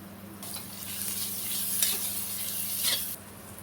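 Masala of tomato with coriander, Kashmiri chilli, turmeric and cumin powders sautéing in a pan, a close, steady sizzle with spatula strokes scraping through it, then cutting off abruptly.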